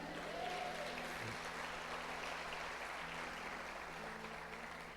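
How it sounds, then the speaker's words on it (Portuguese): A church congregation applauds during a Portuguese-language sermon, a continuous, fairly soft wash of clapping that stays even throughout, with a faint low hum beneath. "Quem crê nisso, dá um glória a Deus e aplauda a Ele."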